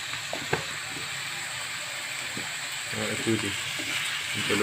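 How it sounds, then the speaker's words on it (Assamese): Soft sizzling of chili powder, turmeric and colouring powder frying in a pan for a pork recipe, with occasional scraping and clicking of a spoon, growing a little busier toward the end. "জলকীয়া গুড়াটো এইখিনি অলপ ভাজি লওঁ"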